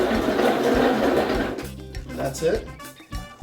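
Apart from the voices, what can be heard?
blender spinning mango salsa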